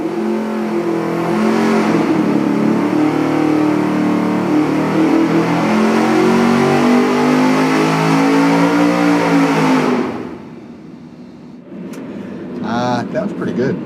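Engine roars as it revs up through a Cherry Bomb Salute straight-through perforated muffler, a loud, raspy, rising drone that climbs steadily for about ten seconds, then drops to a lower idle with a short blip near the end.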